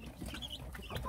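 Native Korean hens and chicks cluck and peep indoors, a dense mix of short calls over a steady low rumble of background noise, fairly close and continuous throughout.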